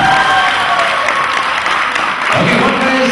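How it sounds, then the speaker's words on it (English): Sustained applause from a crowd, a dense wash of many hands clapping steadily throughout with a few faint voices mixed in. "let's try the round of applause"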